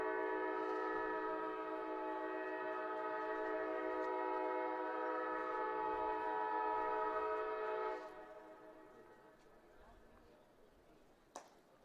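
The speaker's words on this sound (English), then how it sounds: "That is a train coming in." A train near a riverside baseball stadium sounds a long, loud, sustained horn for about eight seconds before the horn cuts off and a fainter rumble fades, with a sharp crack near the end.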